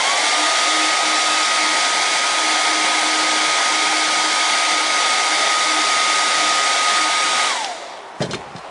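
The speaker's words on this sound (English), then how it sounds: "Give it a quick blow with the gun." An air blower gun is aimed at contact cement on a foam puppet head, giving a loud, steady whooshing blast that holds for about seven seconds before winding down, followed by a faint clunk.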